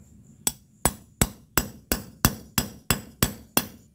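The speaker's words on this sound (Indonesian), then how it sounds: "Mukulnya nggak usah terlalu keras, nggak apa-apa, yang penting dia bisa ke bawah." A hammer strikes repeatedly while driving a bushing into a Honda CB150X Pro-Link suspension linkage backed by a cloth-wrapped stone, giving ten sharp, evenly spaced metallic taps, close and clear, with quiet between blows.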